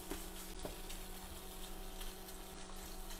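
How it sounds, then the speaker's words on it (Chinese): Shrimp and garlic frying in a non-stick wok, giving a steady, even sizzle with faint bubbling throughout and no voices. "把这个虾放下去，爆香。"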